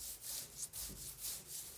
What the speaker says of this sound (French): La ponceuse, ça creuse un peu malheureusement.